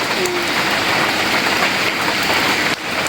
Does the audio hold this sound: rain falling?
yes